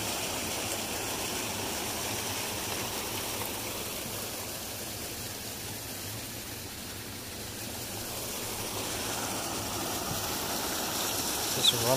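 A steady rushing of runoff water flowing from a mine pond in Stephenville, Newfoundland, continuous and fairly loud, like water spilling over stones, with no voices.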